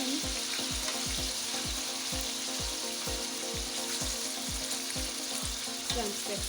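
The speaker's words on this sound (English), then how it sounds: "So I'm stir frying on a low steam." Chicken sauce with vegetables stir-frying in hot oil over low heat gives a steady, dense sizzle, with regular rhythmic thumps of a utensil stirring and scraping the pan throughout.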